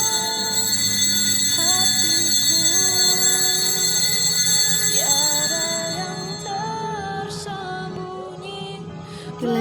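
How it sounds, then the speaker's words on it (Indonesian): An altar server rings the altar bell during a Catholic Mass, producing a bright, sustained metallic ringing with overlapping tones that slowly fade, while a softer second shimmer appears near the end. "Miss Dinar membunyikan lonceng pendek setiap kata dus 3 kali, lalu disambung dengan lonceng panjang sampai segala kuasa."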